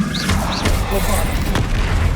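Booming spell explosion from Bombarda in the Hogwarts Legacy game, a heavy low rumble inside a dense, busy battle mix with voices and other effects running throughout.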